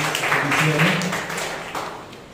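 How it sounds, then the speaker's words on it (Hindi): A church congregation at a Sunday morning service claps for a first-time visitor, with a steady, moderately loud burst of applause under continuing talk and a rising voice. "मोनी के लिए जोरदार तालियां बजाएं"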